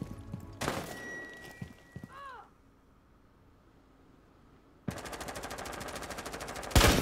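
Gunfire in Rainbow Six Siege: a short rattle of shots, a pause with faint rustling, then a long, loud, steady automatic burst that runs to the end of the clip.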